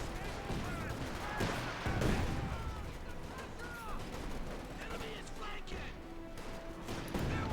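Machine gun bursts and rattling fire from a Company of Heroes 2 battle between tanks and infantry, continuous and mid-distance, mixed with crashes and heard under a caster's fast commentary.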